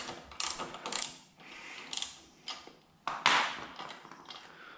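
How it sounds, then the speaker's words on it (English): Wrench loosening the fork mounting bolts on a Harley Sportster motorcycle, giving a few close, uneven mechanical clicks and scraping bursts with short gaps between them. "take off these two mounting bolts then"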